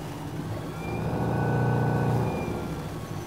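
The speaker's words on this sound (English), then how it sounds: "The electric engine of the Hanse 315 rudder drive is controlled via the top-mounted throttle" Electric motor of a Hanse 315 sailboat's rudder drive hums up under throttle, a smooth rising whine that swells in the middle and eases back, with no talk.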